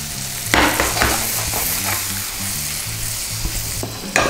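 Snow peas and green peas lightly salted and tossed in a hot frying pan, a steady loud sizzle with a few scraping stirs and clatters of the pan throughout, no voices.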